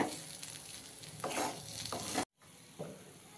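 Stuffed okra coated in masala frying in oil in a pan, a steady sizzle with stirring scrapes on top, cut off by a short silence before the sizzling and stirring return.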